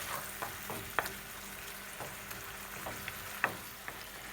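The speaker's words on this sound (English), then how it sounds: "we'll stir everything together and allow it to just continue to cook" Sweet and sour fish chunks sizzling in a pan while being stirred with a wooden spoon, a steady frying hiss with occasional soft knocks and scrapes, moderately quiet and close, no voices.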